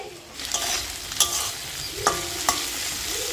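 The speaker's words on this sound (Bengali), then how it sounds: "এদিকে করছি হচ্ছে বটবটি ভাজা" Broad beans frying in a pan sizzle steadily up close, broken by several sharp scrapes and clacks of stirring at irregular moments.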